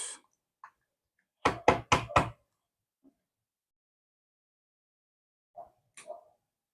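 An electric desoldering pump knocked against a hard surface to clear out solder, a quick burst of four loud close knocks, then a few lighter taps and clicks after a pause.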